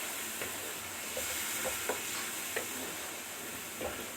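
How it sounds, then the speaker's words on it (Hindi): Masala for mutton korma roasting in a pan, a steady quiet sizzle with a few soft scraping stirs at irregular intervals. "अब इसको मसाले को अब हमने भुनना है।"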